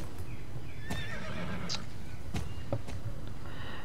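A horse in the Star Stable Online video game whinnies loudly while hooves clip-clop in scattered steps against a steady ambient background.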